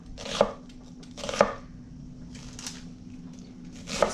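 A knife coarsely chops onion on a board for chicken stock, three distinct sharp thuds spaced apart over a quiet background with faint rustling between cuts.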